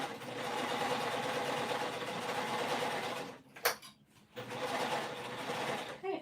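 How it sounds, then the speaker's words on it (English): A sewing machine runs steadily while back stitching a 1/2 inch seam on a winter crescent bag, humming close and loud with a brief pause before stitching resumes. "I'm back stitching here."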